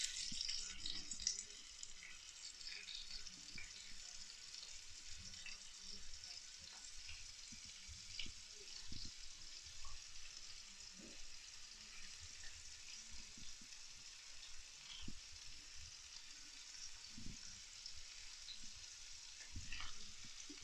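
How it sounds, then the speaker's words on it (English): Six lamb chops sizzle on a hot cast iron grill, a continuous crackling hiss with scattered pops and spits, fairly quiet and steady throughout, with no voices. "I think the grill is hot now, so I'm gonna put my lamb chops on"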